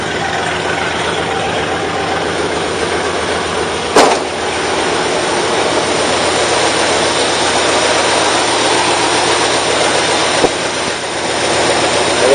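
A 1964 Ford Galaxie 500 with a 390 V8 idles steadily and close by, a dense continuous rumble with a brief sharp knock or clunk near the start and another faint one late, no talking.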